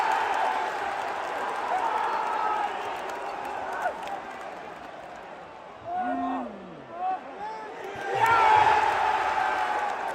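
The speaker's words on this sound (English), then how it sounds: "Listen to this crowd, man." Large arena crowd at a WWE Money in the Bank wrestling event roaring and cheering, a dense wash of voices with swelling shouts and a louder surge near the end, while a nearby voice speaks briefly.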